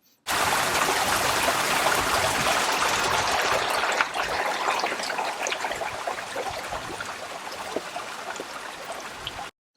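Water flows steadily along an irrigation channel, a dense, continuous rushing and trickling that stays close and fairly loud from start to finish, with no voices over it.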